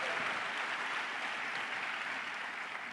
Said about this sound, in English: Give them a round of applause for being a part of this great company